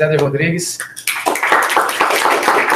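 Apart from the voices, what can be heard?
audience applause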